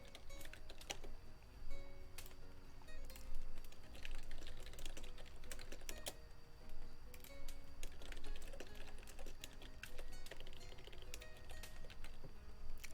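Rapid, irregular clicking of computer keys continues throughout, soft and close, with occasional heavier key presses and no talking.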